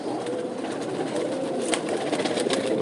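Domestic pigeons coo softly and steadily at a rooftop loft, a low continuous murmur of calls over a broad hiss of outdoor background noise.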